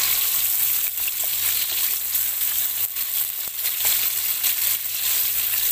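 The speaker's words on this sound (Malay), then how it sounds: "Kita goreng udang tak perlu lama-lama." Shrimp fry in a pan with a loud, continuous sizzle and crackle close by, punctuated by faint clinks of stirring.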